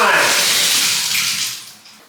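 Water gushes from a tap into a bathtub with a loud, splashy rush that tapers off toward the end, with no talk over it.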